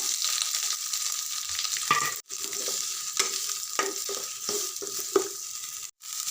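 Onions and green chilies frying with cumin, mint and spring onion in a pan, a hissing sizzle broken by repeated scraping stirs, with two brief drops to near silence.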